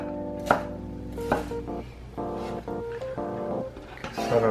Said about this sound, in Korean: 길이로 두 개를 썰어 주셔서 약간 푸른 쪽을 송송 썰어 줍니다.